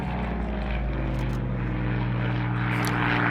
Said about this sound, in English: Let's just appreciate the sound of Berlin engines here